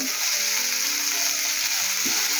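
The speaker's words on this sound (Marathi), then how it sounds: "बारीक गॅसवर भाजायचे बोंबील पण एकदम बारीक गॅसवर भाजायचे" Bombay duck fish (bombil) frying in a pan over a very low gas flame, a steady, even sizzle close by with faint scraping, no voices.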